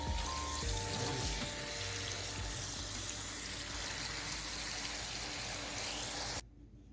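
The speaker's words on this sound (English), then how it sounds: "I'm gonna put this right in here, and I'm gonna put in some cold water" Cold tap water pours in a strong, continuous rush onto strained pasta in a pot or bowl, loud and close for about six seconds before cutting off abruptly.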